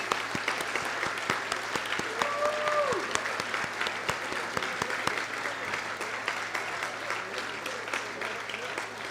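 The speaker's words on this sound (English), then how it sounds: "I'd like all of you to give them a big round of applause." A crowd claps steadily in a dense patter of many hands, sustained throughout, with a brief indistinct voice heard early under the clapping.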